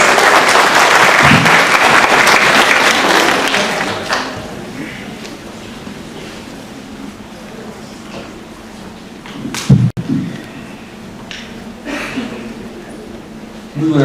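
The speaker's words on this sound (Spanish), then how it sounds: "Les pido un voto de aplauso," Seminar audience applauds at an academic event on government programs, a loud dense burst of clapping for the first four seconds that fades into scattered claps, thumps and room murmur.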